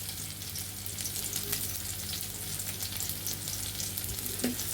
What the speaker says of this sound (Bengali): আমাদের কালো জিরাগুলো ভাজা হয়ে গিয়েছে